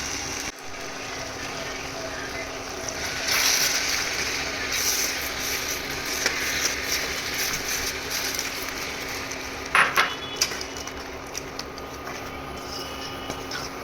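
Spice paste for a Bengali potato dum sautéing in a pan, the spoon scraping and knocking at the metal in irregular clicks over a steady low sizzle. No speech.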